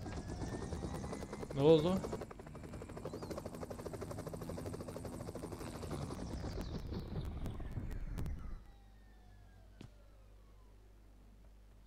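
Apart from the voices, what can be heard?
helicopter in the video game PUBG Mobile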